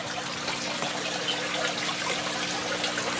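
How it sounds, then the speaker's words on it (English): Water trickles and splashes steadily from a DIY guppy-bin filter fed by a 1,000 gallon-per-hour pump, a continuous close, even babble of falling water with no voices. "The water coming out"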